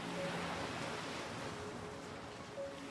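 Ocean waves on the golden sand beaches of K'gari island, Australia, breaking gently in a steady, soft wash of surf with light wind noise, fairly faint and with no voices.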